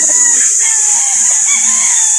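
Gamecocks crow and cluck loudly and continuously at an open-air fowl market in Calauan, Laguna, several birds overlapping over a bright hiss.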